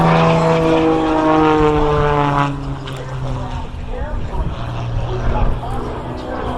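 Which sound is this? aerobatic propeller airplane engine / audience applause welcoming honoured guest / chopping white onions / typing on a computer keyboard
aerobatic propeller airplane engine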